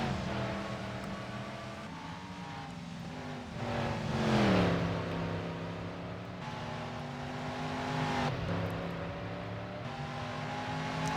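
Race cars in the NASCAR Racing 2003 simulator roar steadily in a GT championship race, engines droning with shifting pitch as the cars sweep through corners and swell louder before easing off, with no talk.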